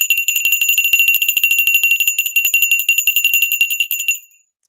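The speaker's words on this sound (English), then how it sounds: "we can definitely ring the bell for hymns. Here we go." A rapid electric bell rings continuously for about four seconds as a sound effect, loud and alone, its bright metallic trill steady until it cuts off abruptly near the end.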